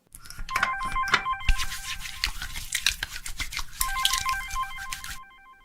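A mobile phone rings with a repeating electronic tone, its beeping pattern coming in bursts over a dense, busy background for about five seconds before stopping abruptly.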